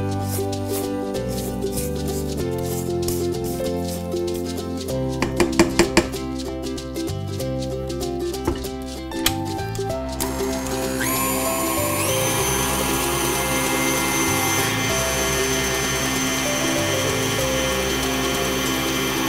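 An electric mixer runs continuously, beating lemon blueberry cake batter, with a steady motor whine that shifts in pitch partway through and a few brief clatters near the start; no one speaks.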